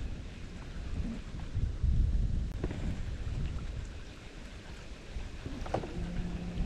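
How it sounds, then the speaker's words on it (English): A storm rolling in over a river camp while fishing for Murray cod, with low rumbling thunder and gusty wind noise filling the air, steady and moderately loud, a couple of brief knocks, no talking. "Bit of a storm rolling in."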